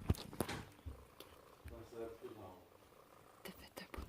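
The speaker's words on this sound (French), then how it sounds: "Tu ronronnes, t'es contente de tes bébés, hein?" A mother cat purring softly after giving birth to four kittens, a faint low rumble under a person speaking gently to her nearby.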